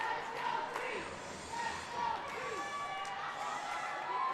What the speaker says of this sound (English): Creek chant start up here in the crowd, trying to hype up with 3 minutes left.